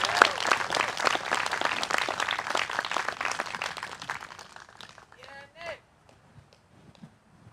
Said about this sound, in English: Another round of applause for Rob.